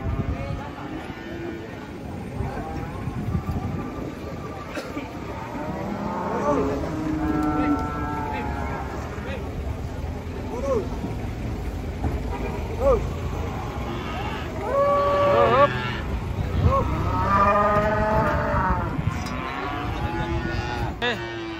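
Giant cattle being unloaded from a truck at Jelok market, lowing loudly and repeatedly near and far, with men calling out and talking over the moos throughout.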